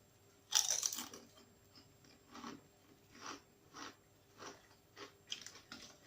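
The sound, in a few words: eating Mackie's Tangy Tomato crisps, crunching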